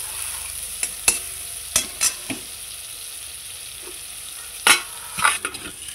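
A paste of mustard, poppy seed, green chilli and garlic fries with kochur loti (taro stolons) in a pan. It is stirred with a spatula, giving sharp clanks and scrapes over a soft steady sizzle, close by.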